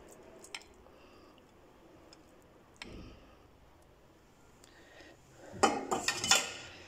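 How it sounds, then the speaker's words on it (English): Buldak hot chicken flavour ramen, corn flavour, being mixed in a bowl: quiet, sparse clinks of utensil on dish, then a short busier burst of scraping and clattering near the end. "Mix it very well. Now we just add the noodles."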